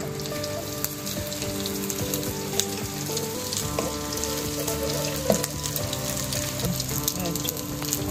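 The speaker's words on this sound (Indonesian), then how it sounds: "kuali kita sudah panas, kita masukkan ikan bilis dan kita tumis sehingga garing" Dried anchovies (ikan bilis) stir-fry in hot oil in a wok, a dense crackling sizzle like light rain, with occasional scrapes of stirring and music playing underneath.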